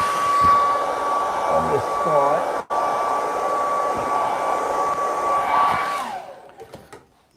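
A hair dryer blows steadily on a watercolour beach painting, a loud close whirring drone with one brief dropout before it winds down and switches off. A few words are spoken briefly.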